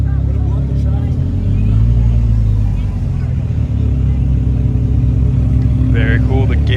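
A gated-manual Ferrari 360 pulls away through a crowded supercar gathering in Toronto. Its engine gives a loud, steady low drone, with voices talking over it.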